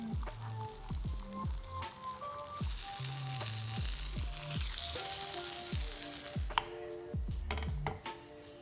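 Paniyaram batter fries in a Southern Indian paniyaram pan, a steady close sizzle broken by repeated light metallic taps and clicks as a skewer flips each piece.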